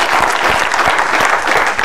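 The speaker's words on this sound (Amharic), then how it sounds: "አጨብጭቡላችሁ።" An audience in a family game show studio claps, dense steady applause filling the whole moment at close range.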